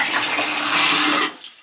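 A half-full 5-gallon bucket of water is dumped down a shower drain in a cottage, a loud close rushing gush that cuts off abruptly after about a second.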